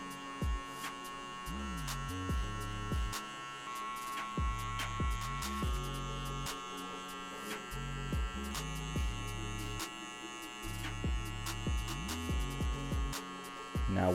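Electric hair clippers fitted with a number 1 guard, lever fully open, buzz steadily while fading curly hair. The close, humming drone shifts in pitch and loudness as the blades move through the hair, with no talking.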